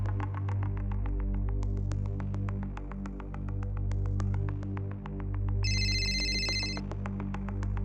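A phone rings with a pulsing electronic ringtone over a low steady hum, a repeating rhythmic pattern with a brief brighter chime near the end, and no voices.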